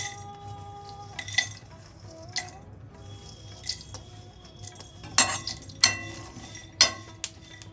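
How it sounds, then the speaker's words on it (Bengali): Cashews and melon seeds dry roasted in a dry pan, light scattered clicks and scraping taps of stirring at an irregular pace over a quiet background hum. "এবার আমি কিছুটা কাজু আর মগজটাকে শুকনো খোলায় ড্রাই রোস্ট করে"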